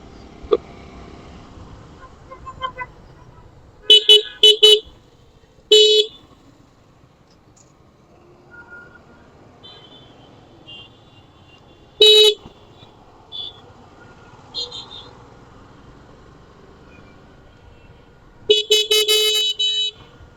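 Auto rickshaws and other vehicles in busy city traffic, heard as several short bursts of honking, some close and loud, spaced across a low, quiet street hum.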